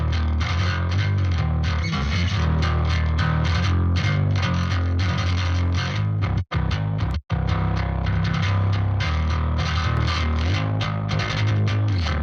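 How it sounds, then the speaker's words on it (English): Bass guitar run through a distortion plugin plays a dense, gritty, heavily driven riff for several seconds, loud and continuous apart from two brief cutouts, with no voices. "step through the different distortion sounds that this plugin has so you can hear what the different flavors are of distortions on bass guitar"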